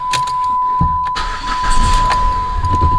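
A Chrysler PT Cruiser being built as a racecar cranks and catches, its engine starting up close by with a brief clatter and then settling into a steady running rumble, with no talking.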